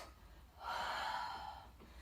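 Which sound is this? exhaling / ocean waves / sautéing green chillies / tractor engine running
exhaling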